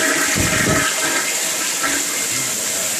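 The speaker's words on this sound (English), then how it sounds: "The flow in the master toilet works good." A master toilet in a rental house flushes loudly and close, with rushing water running continuously throughout.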